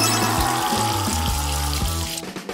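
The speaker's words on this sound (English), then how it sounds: "just run it under the faucet" Water runs from a faucet in a steady, close, full-bodied splashing stream that carries on alone and then begins to thin out near the end.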